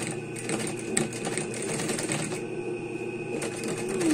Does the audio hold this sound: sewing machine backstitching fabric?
yes